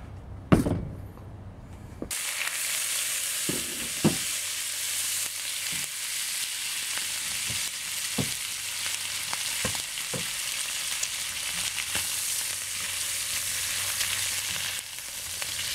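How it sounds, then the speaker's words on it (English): Pork belly frying in vegetable oil, a steady bright sizzle that starts abruptly after a sharp clatter and carries on evenly, with occasional knocks and scrapes of utensils, close by and without talk. "So we fry these up."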